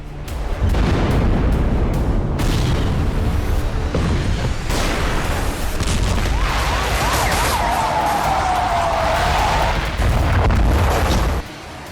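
Strikes on Hezbollah produce repeated loud booms and explosive bursts over a constant rumble, with a thin whining tone rising through the middle and no voices.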